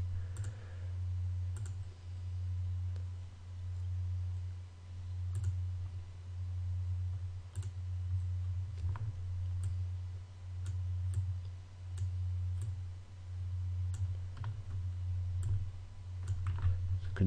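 A computer mouse clicks while someone draws in GIMP, giving faint, scattered clicks over a low, pulsing hum.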